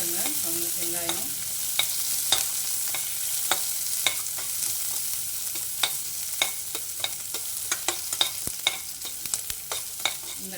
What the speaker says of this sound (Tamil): இப்போது நம்ம எடுத்து வச்ச வெங்காயத்தை சேர்த்துடலாம். சேர்த்து வதக்கிடலாம்.